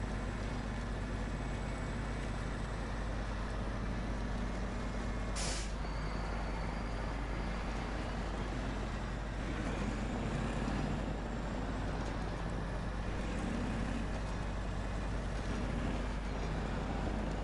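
P16 truck in SnowRunner idling with a constant low engine rumble, droning evenly and close, with a short hiss burst partway through.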